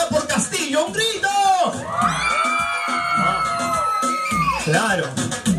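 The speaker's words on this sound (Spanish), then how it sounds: "Los que van a votar por Castillo, ¡un grito!" A crowd at a baby shower lets out a loud, sustained group shout on cue, rising after a host's call and holding for a few seconds before voices break off into talk.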